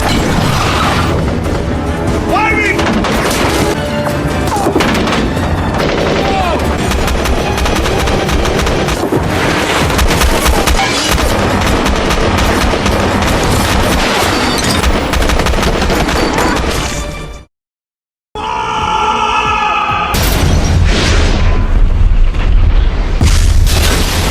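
Video game battle: loud, dense gunfire rattles continuously with booming blasts mixed in, cutting out briefly to silence before the barrage resumes.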